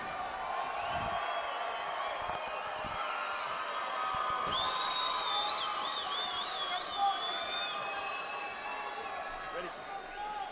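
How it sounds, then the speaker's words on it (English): Arena crowd at a fight event cheering and whistling after the fighters are announced for the co-main event, a steady loud roar of many voices with sharp whistles rising above it, plus an announcer's voice. "You can hear the crowd is excited for this one."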